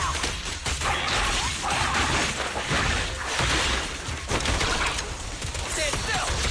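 Dense, chaotic gunfire in the action game Zenless Zone Zero, continuous loud volleys mixed with crashes and whooshing combat effects, overlapped by character voice lines.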